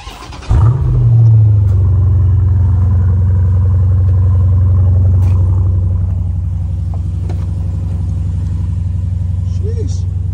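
A car engine turns over and settles into a loud, deep idle rumble close by, easing lower after a few seconds, while a voice talks over it.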